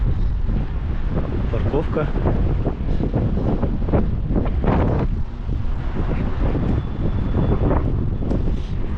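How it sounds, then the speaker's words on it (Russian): Strong outdoor wind buffets the microphone in near-constant broadband rumble on a warm, stormy day by a parking area, with someone talking over it throughout. "Блин, капец, ветрище, конечно."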